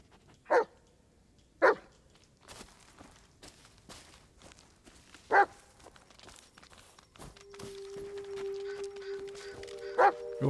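A dog in the Blair Witch video game gives several sharp, separate barks spaced a few seconds apart amid quiet footsteps and forest ambience, with a sustained tonal hum entering toward the end.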